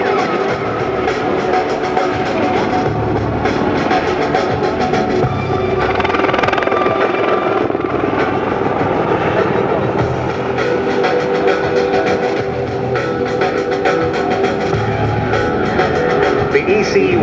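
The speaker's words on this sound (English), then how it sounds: "The EC130 V4 is used mainly as a light utility helicopter" A Eurocopter EC130 V4 light utility helicopter performing an air show display, its loud, continuous engine and rotor roar filling the air and rising and falling slightly as it maneuvers, with no talk over it.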